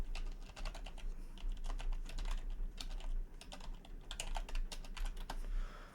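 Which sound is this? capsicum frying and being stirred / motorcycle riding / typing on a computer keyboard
typing on a computer keyboard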